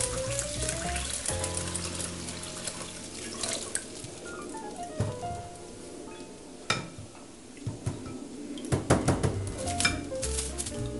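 Water poured into a container of rice and onion being prepared for microwave cooking, a trickling, splashing flow with drips and clinks of the container.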